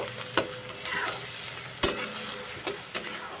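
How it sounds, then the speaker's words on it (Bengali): Ginger paste, garlic paste and onion sauté in a pan for masala begun, a low continuous sizzle punctuated by several sharp spatula scrapes and clinks against the metal, heard close up. "এবার আদা রসুন পেঁয়াজ একসঙ্গে সুন্দর করে একটু কষিয়ে নেব"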